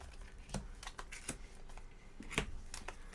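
A deck of Bios Genesis mutation cards gets shuffled by hand in a quiet room, giving irregular crisp flicks and slaps of card stock spaced through the moment.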